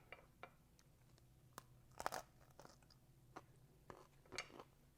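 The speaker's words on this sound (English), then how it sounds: "You can hear the crunch. That tells you how crispy it is." Several sharp, dry crunches from close up as crispy pizza crust is bitten and chewed, with short pauses between bites and no talking.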